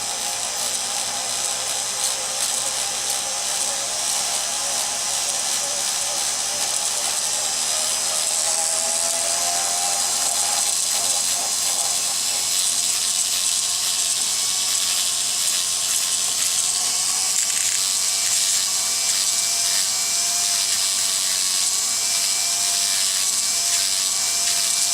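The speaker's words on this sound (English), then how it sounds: "I'm going to use an abrasive buff on my Dremel, and I'm going to lightly clean off that discoloration." Dremel rotary tool fitted with an abrasive buff polishing a silver bracelet, a steady high-pitched whine running continuously and close, with slight pitch shifts as pressure changes.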